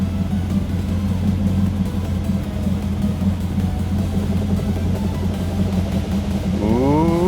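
An LS-swapped Nissan 240SX engine runs at a steady, loud, close idle rumble as the clutch is eased out, with a rising whine near the end.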